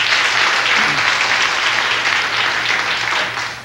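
A bluegrass concert crowd applauds steadily to welcome the band's lead guitarist, a loud, dense wash of clapping that holds for several seconds and starts to thin at the end.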